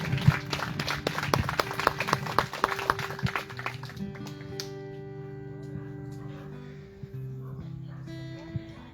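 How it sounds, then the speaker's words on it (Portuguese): Congregation in a church claps for the Lord, brisk rhythmic clapping for several seconds that tapers off as sustained keyboard or organ chords continue alone. "Aplauda o Senhor Jesus, irmão."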